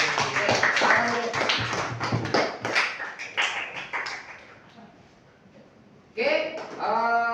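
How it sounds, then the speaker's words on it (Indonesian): Students in a classroom clap their hands together, a dense burst of close claps and voices that fades to near quiet before a second round of clapping and chatter resumes. "kasih aplaus dan tepuk tangan buat."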